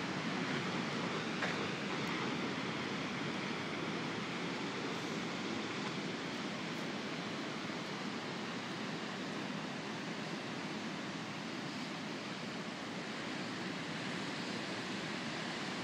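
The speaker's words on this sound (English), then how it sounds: "Those waves breaking out there are 15 to 21 feet." Large ocean waves of 15 to 21 feet break offshore from a beach cove, a steady, dense roar of surf without distinct individual crashes, distant and continuous.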